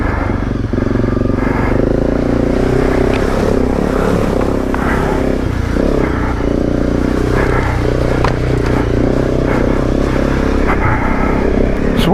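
A Honda CRF 250 Rally motorcycle revs and bogs through mud, its engine droning loudly and unevenly with surges, scraping and clattering close by, no voices.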